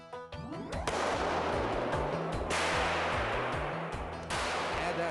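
A gun is test-fired in a solenoid-triggered rig, producing sharp, loud reports with long ringing tails, mixed with rhythmic mechanical clicking and whirring from the setup.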